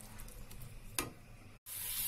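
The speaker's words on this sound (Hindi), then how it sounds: "अब हम मसालों को तब तक भुनेंगे जब तक मसाले में से ऑयल बिल्कुल अलग ना हो जाए" Spice masala for chicken bhuna sizzling and frying in a pan, with soft stirring scrapes and a brief louder clatter midway, a short dropout, then steady hiss resuming; no talking.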